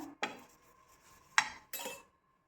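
A spoon spreads oil over a chapati on a hot pan, giving three short metallic scrapes and clinks spaced apart, close and fairly quiet, with no talking.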